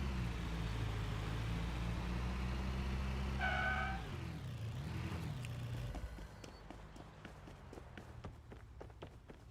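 Busy road traffic in the video game Storage Hunter Simulator: a steady low engine rumble with a passing car that swells and fades, then thinner ambient noise with scattered light clicks and taps.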